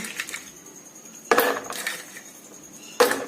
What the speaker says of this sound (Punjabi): ਥੋੜੀ ਜੀ ਬਰਫ਼ ਲਈ ਆ ਇਹਦੇ ਵਿੱਚ ਪਾ ਦਾਂਗੇ ਜੱਗ ਦੇ